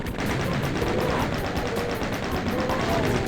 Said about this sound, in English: Chain gunner on some ledge.